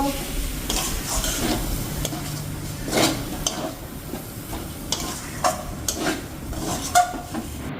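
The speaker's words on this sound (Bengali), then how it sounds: "মশলাটা এবার ভালো করে ভেজে নেব।" Spice paste fries in hot oil as a Bengali chicken dish cooks, with a steady close sizzle under repeated scraping stirs and occasional spoon knocks against the pan.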